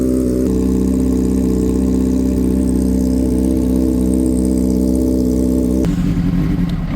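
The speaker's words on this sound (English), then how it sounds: "RPMs are stumbling like crazy at idle." A Honda CBR600RR motorcycle engine idles roughly and loudly up close, its steady drone wavering and stumbling throughout, with a brief shift in tone near the end.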